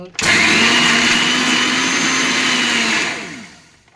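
A kitchen blender purees watermelon and sugar for a yogurt sherbet. The motor kicks on abruptly, whirs loudly and steadily for about three seconds, then spins down.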